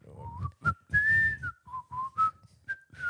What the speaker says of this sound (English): Fair amount of whistling in the break, trying to work out what the song is